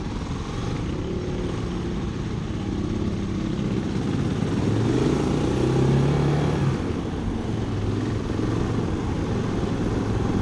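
A big old-school Cafe400 motorcycle drones steadily while riding, its engine note rising and swelling about halfway through before settling back into a constant rumble.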